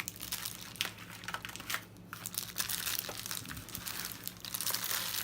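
Aluminium foil crinkles and crumples while being folded over and pressed down for a trail meal sleeve, a close, irregular series of crisp rustles and crackles with a few short gaps.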